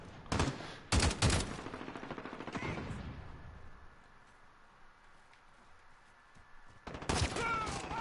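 Bursts of automatic gunfire crack out in a Call of Duty: Modern Warfare multiplayer flag-capture match, rapid rattling volleys at the start and again at the end, separated by a quieter stretch of faint background game noise.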